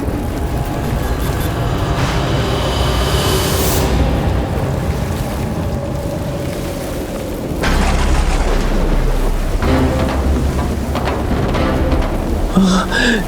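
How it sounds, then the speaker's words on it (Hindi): A fierce nighttime storm roars loud and continuous, with dense rain hiss and wind, and deep thunder rumbles swelling through the middle and later stretches, no voices present. "वो भी इतनी रात में, इतने भयंकर तूफान में"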